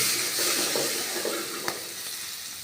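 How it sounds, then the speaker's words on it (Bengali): Green chili, onion, garlic and salt sauté in a pan for dal, producing a soft, continuous hiss of frying with one faint stirring tap and no voices. "একটু জাপটা কমিয়ে দিলাম এটি কষিয়ে নিচ্ছি"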